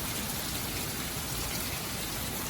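Steady rain pours down outdoors as a storm approaches, a dense, even hiss of drops with no pauses, fairly soft and constant throughout.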